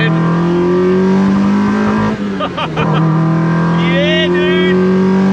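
A Honda Civic with a VTEC engine drones loudly and steadily, its engine note shifting as it drives, with a brief burst of voices and shuffling in the middle.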